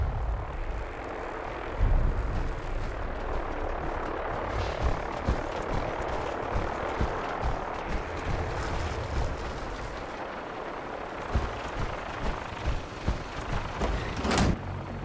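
Military aircraft in the Fallout 4 game, a continuous rotor-like engine drone with faint clanks and thumps over it, ending in a short sharp whine; no speech.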